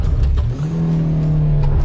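A Renault Clio 1 petrol engine revs up and accelerates from 0 to 100 km/h, a loud steady roar with a rising tone, heard up close without any talking.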